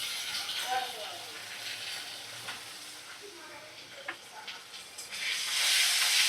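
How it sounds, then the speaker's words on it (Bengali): Bengali egg biryani masala with chopped tomato and a spoonful of sour yogurt sizzles and fries in a pan while being stirred, giving a steady hiss with scraping strokes. A voice is briefly audible near the start. "ভালো করে মশলা কষিয়ে নিচ্ছি।"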